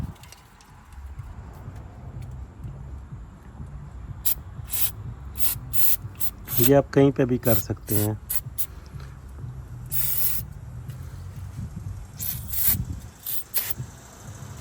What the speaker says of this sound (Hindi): मैं इस पे जो है ये ऑयल भी जो है ब्रेक क्लीनर जो है ये स्प्रे भी कर देता हूँ